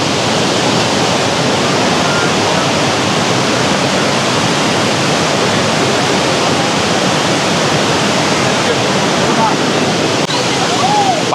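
Waterfall roaring as a loud, unbroken wash of rushing water, close and constant throughout, with a faint voice briefly at the end.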